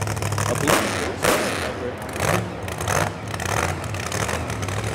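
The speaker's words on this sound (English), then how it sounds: "This car is very, very loud." A very loud car engine revs in repeated bursts during a Beat McKinley high school parade with football players aboard, surging over crowd noise and nearby voices.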